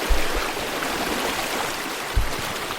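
A swift glacial stream in Glacier Bay National Park rushes in a steady, full roar close by, with a few soft low thumps and no voices.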